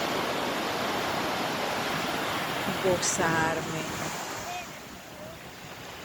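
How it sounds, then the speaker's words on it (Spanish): Sea surf rolling in at dawn on Margarita Island, a steady broad wash of waves heard close, with wind buffeting the microphone and a voice speaking briefly partway through. "escuchar la música del mar"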